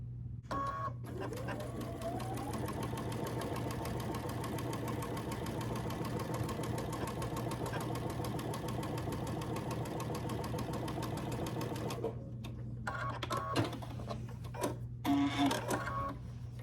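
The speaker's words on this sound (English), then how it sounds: "I'm going to stitch down this at 1/4 inch" A sewing machine stitches quilt pieces along a quarter-inch seam, running in one steady, fast, close whirring stretch for about twelve seconds before stopping, followed by a few light handling clicks and rustles.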